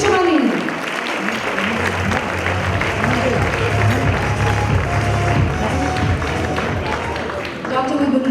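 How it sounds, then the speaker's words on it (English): Audience at a foundation gala night giving a big round of applause, dense, loud clapping with some cheering, sustained throughout while voices and music sound faintly underneath. "Please welcome him with a big round of applause, Dr. Pichumani."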